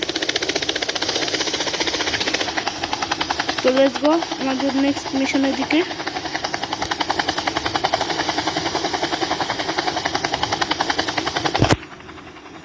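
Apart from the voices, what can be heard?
helicopter engine in video game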